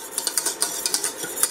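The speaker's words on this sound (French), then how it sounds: "Allez, on continue de mélanger." A utensil stirs orange cream in a saucepan on a hob set to medium heat, giving quick, rhythmic scraping clinks against the metal pan, close up and steady with no voices.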